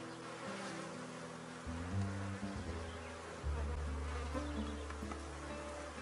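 A strong honey bee colony buzzes steadily throughout during hive splitting and queen rearing, a dense continuous drone with no talk.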